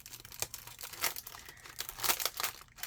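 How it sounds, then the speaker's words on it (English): Die-cut craft shapes in plastic packaging crinkle and crackle close by, in irregular bursts of rustling handling that rise and fall. "Sorry, I am crinkling."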